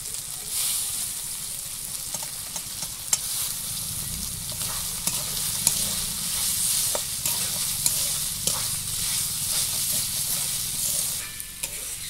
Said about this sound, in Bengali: বাটা মশলার সঙ্গে একসঙ্গে ভালো করে ভেজে নেব।